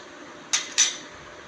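Two quick clinks of a spoon against a bowl while fruit chaat and a spoonful of sugar are stirred together, close and fairly faint, with no talking.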